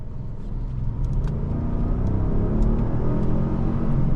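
A 2022 Lincoln Navigator L Reserve SUV engine rumbles steadily and builds as it accelerates, a smooth low drone close by with no voices.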